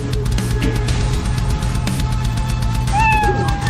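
A cat meows in a video game, a short tonal meow rising near the end over a steady, loud background of game sound.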